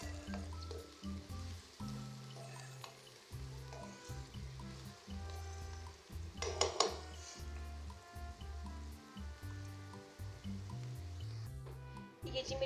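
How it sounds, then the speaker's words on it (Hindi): Sliced onions fry in a pan for chicken karahi, giving off a soft, continuous sizzle with occasional stirring, close but fairly quiet, over a low steady hum in the kitchen. "प्याज़ों को मैं कर लेती हूँ अच्छे से फ्राई।"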